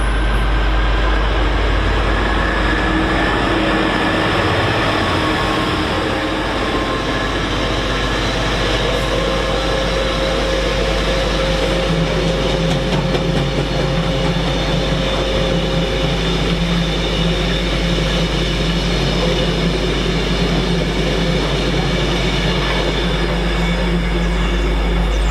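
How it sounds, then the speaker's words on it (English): GBRF Class 66 locomotive 66724 hauls a Clitheroe Castle Cement freight train through Stafford on the West Coast Main Line, a loud, steady diesel rumble and wagon roar holding close for the whole stretch without fading. "the next freight is coming through. It's from Clitheroe Castle Cement freight service, GBRF"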